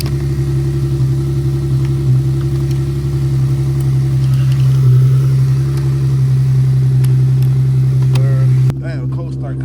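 A tuned Infiniti G37 engine running after a cold start, a loud steady low drone with a strong even hum that holds level, then drops off abruptly near the end.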